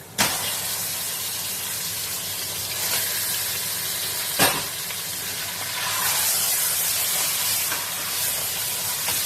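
A lamb shank hits hot oil in a pot for biryani, letting out a sharp sizzle that settles into a steady, hissing fry with a couple of brief clatters and a swell near the end, no voices.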